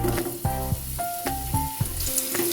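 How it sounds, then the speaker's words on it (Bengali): Diced potatoes frying in oil spiced with chilli and bay leaf, a steady loud sizzle with bursts of stirring scrapes. "আলুটা ভেজে নিচ্ছি"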